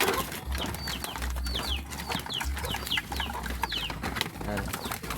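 Birds, likely pigeons or doves, being fed: repeated cooing and chirping calls over a low rumble, with scattered fluttering and a voice talking at times.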